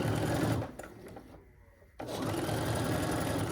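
A sewing machine stitches quilt pieces in quick bursts, a steady mechanical whir with a short pause in the middle before it runs fast again, close and loud with no talking.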